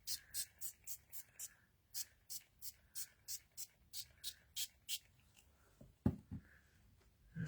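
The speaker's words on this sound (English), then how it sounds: "I'm going to spray it with water to start off with." Repeated short hissing spritzes of water from a spray bottle onto a craft card, about fifteen quick pumps in a steady rhythm, close by, followed by a brief thump and faint rustling.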